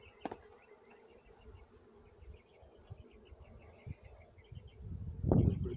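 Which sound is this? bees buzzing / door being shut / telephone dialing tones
bees buzzing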